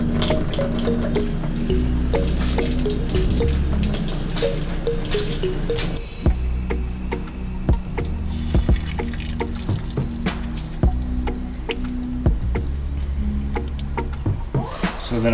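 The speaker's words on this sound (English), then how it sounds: "it takes forever to dump this fresh tank" Water draining from an RV's fresh water tank, a steady splashing gush with gurgles and occasional drips, close and continuous without talk.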